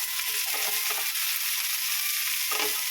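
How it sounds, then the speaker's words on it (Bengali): Chicken with broccoli, carrot and beans stir-fries in a hot pan, a dense continuous sizzle with occasional stirring scrapes and a clatter of the spatula near the end. "এবার বেশ খানিকক্ষণ নাড়তে থাকবো। সব ভেজিটেবিল একসাথে একটু যেন ফ্রাই হয়ে যায়।"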